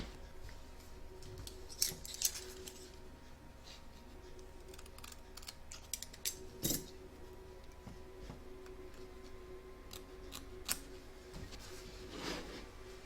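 Scissors trim excess fabric around the hairline of a stitched Dress Up Tony doll, giving scattered sharp snips and clicks over a steady low machine-like hum, fairly close and quiet, with no talking.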